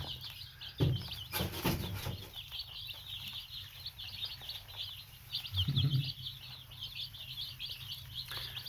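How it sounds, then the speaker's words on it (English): A flock of baby chicks peep constantly around a feeder while eating, with a few louder knocks and rustles close by. "Here's some baby chicks eating food."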